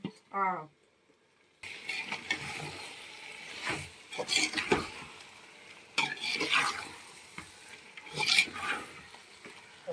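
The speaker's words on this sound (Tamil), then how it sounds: "பொரிச்சு வச்சிருந்த சிக்கனை போடுறேன்" Pre-fried chicken goes into a pot of sautéed masala for Hyderabad biryani and is stirred, giving repeated scraping strokes against the pot over a steady sizzle, in close bursts while people talk.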